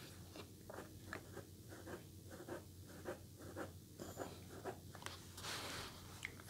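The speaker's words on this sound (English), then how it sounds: "The tip writes on the paper" A Kanwrite Heritage fountain pen with a smooth BB nib writes on paper, giving a faint, continuous scratchy glide broken into short strokes over steady low room hum, with no voices.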